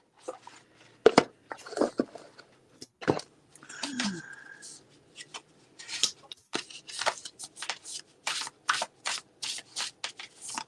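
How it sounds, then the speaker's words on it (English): Paper cards riffled and shuffled up close in crisp bursts of flutter and snapping, repeated several times, with a brief murmur of voice between. "I love the way this shuffles"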